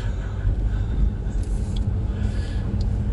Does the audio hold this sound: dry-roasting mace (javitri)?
no